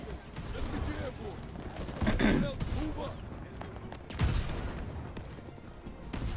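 Gunfire crackles through a Call of Duty battle scene, with bursts of shots and two louder impacts standing out over a continuous busy backdrop of combat noise, while a voice talks over part of it.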